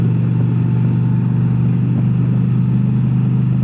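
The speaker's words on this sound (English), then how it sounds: "Running errands on the touring bike in town." Indian Pursuit touring motorcycle cruising through town on errands, a steady loud low engine rumble at an even pace, close and continuous with no talk.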